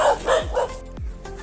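A German Shepherd and other dogs bark in a group along a street outdoors, three or four sharp barks in quick succession, fairly close, with a little background noise.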